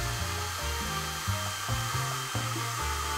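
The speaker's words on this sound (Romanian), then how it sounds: "Acum luați uscătorul de păr și începeți să suflați cu grijă pe valurile create!" A hair dryer blows close by over epoxy resin with a steady airy whir, its pitch shifting up and down as it moves.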